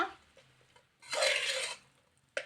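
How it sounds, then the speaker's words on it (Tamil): A spoon scrapes and stirs tomato pulao in a pot in a short, rough burst, followed by a brief metallic clank against the pot in a quiet kitchen. "இப்போ கிளறி விட்டுக்கலாம்."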